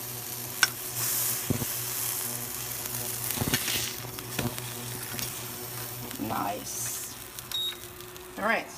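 Bread slices fry in butter in a pan with a soft steady sizzle, broken by occasional scrapes and light clatter as the slices are lifted and turned, and a voice talks over it at times.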